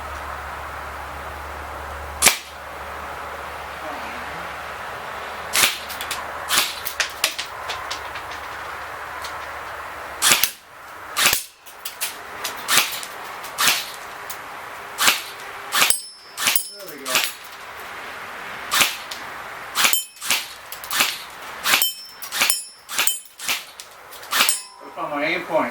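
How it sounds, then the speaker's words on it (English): A Bolt B4A1 BRSS blowback airsoft rifle with recoil shoots, first single sharp cracks, then rapid full-auto bursts of clattering shots, close and loud, with some talk between. "with the recoil shooting in full auto, it didn't seem to affect it too much"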